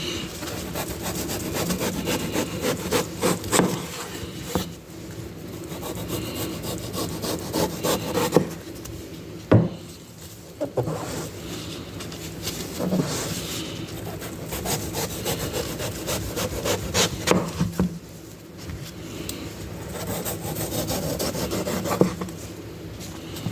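Red flesh being gently scraped off a watermelon rind, with steady rasping strokes repeating close by for over twenty seconds and a few sharper knocks; no talking.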